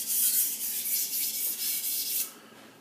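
A Takeda gyuto knife scrapes back and forth across an Imanishi 1K or Blue Aoto 2K whetstone in quick, even rubbing strokes, close and crisp, about eight passes before it stops.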